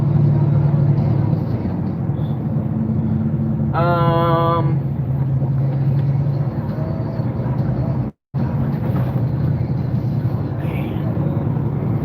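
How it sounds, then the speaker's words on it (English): A new truck's engine drones steadily while driving, a loud continuous low rumble with cabin noise, briefly cut out once partway through, and a short voiced tone near the start. "I'm driving the new truck today."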